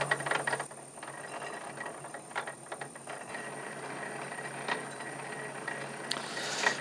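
An Atlas 10-inch lathe set for 8 threads per inch runs a dry threading pass, giving a steady mechanical whir with a constant high whine and irregular gear clicks and ratcheting knocks throughout.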